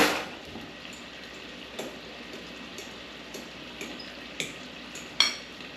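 A metal fork stirs and scrapes through penne Bolognese in a dish, giving a few faint, sparse clinks and scrapes spaced over several seconds, with one sharper tap near the end.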